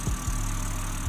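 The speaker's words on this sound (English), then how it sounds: "Proper M engine, sounds the business." A BMW M4 Competition xDrive Convertible's 3-liter twin-turbo inline six, rated at 503 horsepower, idles with a steady, close, low rumble and a few soft pulses in the burble, with no voices.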